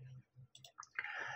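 Computer mouse buttons and keyboard keys click in a quick irregular series, close and fairly crisp, with no voices, while someone works in Blender 2.8.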